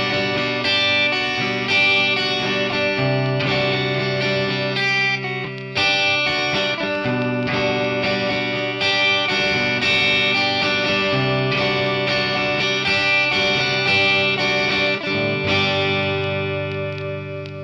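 Electric guitar plays a song riff with distortion and effects, a rhythmic pattern topped by a picked melody, loud and continuous with no talking.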